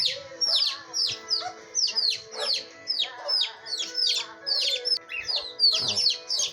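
Tiny bantam chicks in Pernambuco peep in a rapid, continuous chorus of high, sharp chirps, close and fairly loud, with steady bursts overlapping throughout.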